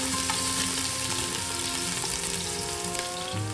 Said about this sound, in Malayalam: ആദ്യം ചേന ഇട്ട് കൊടുക്കാം ചേന ഒന്ന് ചെറുതായിട്ടൊന്ന് ഇളക്കി കൊടുക്കണം